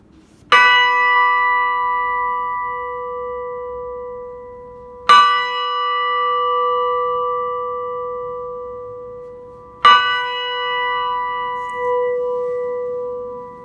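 Three clear strikes of smaller church bells at Saint Paul's Anglican Church in Manuka, spaced evenly apart, each ringing out with a long, bright, sustained tone that slowly fades.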